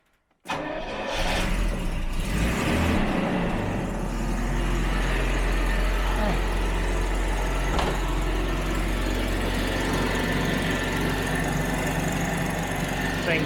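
A Jaguar XJ12 V12 engine, running a little flooded with extra enrichment, cranks and catches, then settles into a loud, steady idle with some throttle for about thirteen seconds.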